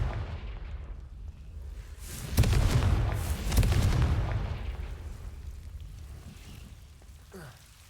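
A Confringo spell explosion in the Hogwarts Legacy video game lands as a loud, booming blast around two and a half seconds in, with a second rumbling burst soon after, both over a steady game ambience.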